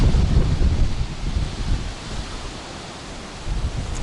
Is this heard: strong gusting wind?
yes